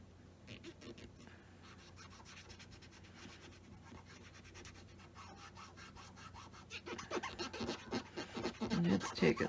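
Chalk pencil lines are scrubbed off cardboard, rasping back-and-forth rubbing that starts soft and grows louder and more vigorous toward the end, with a faint voice speaking now and then.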